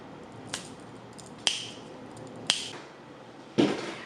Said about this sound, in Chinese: 只需打个响指吧